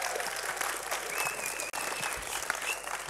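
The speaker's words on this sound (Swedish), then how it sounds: "Mycket jubel vill jag ha så att ni" Applause from a crowd at the Webbstjärnan 2012 award ceremony, dense and steady, filling the room for a few seconds with one brief dip partway through.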